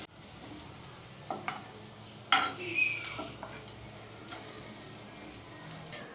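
A spoon stirs podi idli in a hot pan: soft scraping and light clinks over a faint, continuous sizzle, close and fairly quiet, with no talking.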